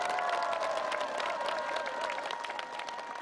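A crowd applauding and cheering steadily at a televised music concert, with a wind band playing a brass melody over the clapping.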